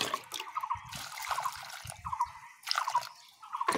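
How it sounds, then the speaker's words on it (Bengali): Water poured onto a newly planted chili seedling in a pot, with steady dripping and trickling close by and soft handling noises around it. "গাছটায় ভরপুর জল দিয়ে দেবো।"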